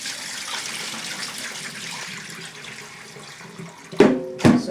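Steady running tap water pours over food being washed in a kitchen sink while cooking Nigerian coconut jollof rice and Cornish hen, followed by two brief louder splashes or clatters near the end.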